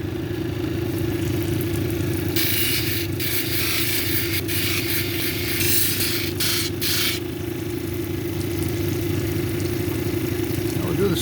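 A lapidary polishing wheel running steadily at 600 grit as a cabochon is held to it, a continuous motor hum with brief bursts of hissing friction as the stone presses on.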